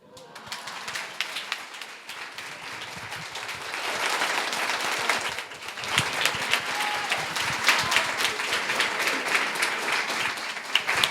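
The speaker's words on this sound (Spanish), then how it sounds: "También le daré el aplauso a Andrés Eloy para su papá." An audience applauds during an event honouring a Venezuelan educator, the clapping building from a soft start into a full, steady round that carries on to the end, with faint voices underneath.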